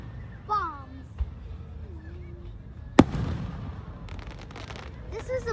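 Independence Day fireworks on July 4th go off with one sharp, loud bang and crackle midway, followed by a cluster of fainter pops and whistling rockets. People talk and exclaim throughout.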